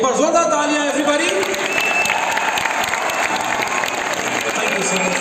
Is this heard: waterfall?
no